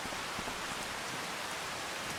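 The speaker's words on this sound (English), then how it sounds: "I do believe it's going to stop raining." Steady rain falls outdoors in the Carpathian countryside on an August day, a soft, even hiss that continues without a break and with no voices.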